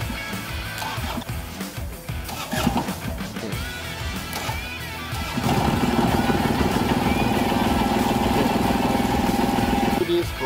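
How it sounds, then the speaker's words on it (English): A hot-wired motorcycle cranks with uneven clicking and sputtering, then the engine catches around midway and settles into a loud, steady idle close by. "Just a few more clicks and you can just start up the engine."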